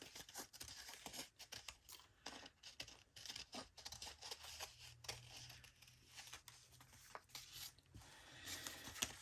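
Scissors make a loose cut around a printed piece of paper for a junk journal, a series of close, quiet crisp snips and rustles that come in irregular bursts.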